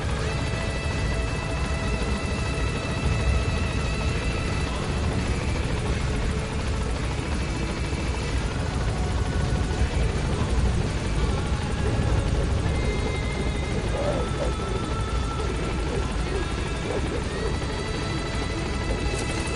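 A helicopter from the video game Metal Gear Solid V: The Phantom Pain slowly comes in to land, with a loud, continuous rotor and engine drone throughout and no talking.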